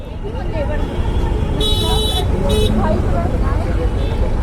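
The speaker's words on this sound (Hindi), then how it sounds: "यहाँ पे बहुत ट्रैफिक है मैम" Dense road traffic outside a school gate, a constant engine roar topped by two bright car-horn toots in quick succession, with voices talking close by.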